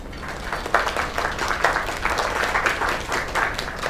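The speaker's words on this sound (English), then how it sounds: "Another round of applause." Sustained applause from a virtual crowd in a video game, dense and steady clapping at moderate loudness for the full length, with no talk over it.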